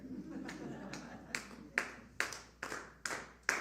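Hands clap out a steady beat for a congregational song at a Sunday service, about eight sharp claps in even rhythm that grow louder, heard faintly against a quiet room.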